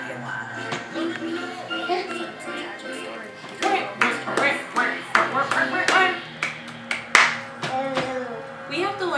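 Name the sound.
child clapping hands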